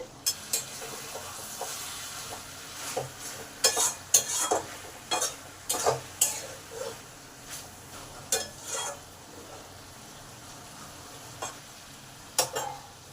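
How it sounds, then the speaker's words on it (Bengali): Spices and tomatoes are stirred in a pan over medium heat for a chicken dak bungalow curry. Irregular scraping and clattering stirs ride over a soft continuous sizzle, close and moderately loud, with pauses between bursts and no talking. "আবার এই ভালো করে মশলাগুলো নেড়ে নেব।"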